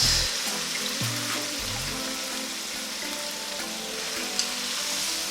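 Tomatoes go into a hot pan of Ghanaian cabbage stew and fry with a steady crackling sizzle, a few stirring knocks early on, close up with no voices.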